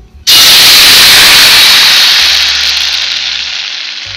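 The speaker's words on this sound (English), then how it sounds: "Now what we have to do is put our coconut milk in our pan." Coconut milk hits a hot pan with sliced guava, bursting into a sudden, very loud hiss and sizzle that stays strong and slowly fades over several seconds.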